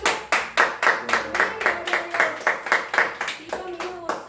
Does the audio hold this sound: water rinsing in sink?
no